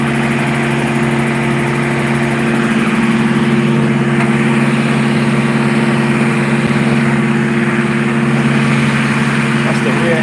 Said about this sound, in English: Yeah, that rear engine is louder than a motherfucker.